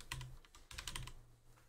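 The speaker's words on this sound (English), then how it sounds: "What am I typing?" Fast clattering keystrokes on a computer keyboard, close and fairly quiet, in two bursts separated by a short pause, with a faint low hum beneath.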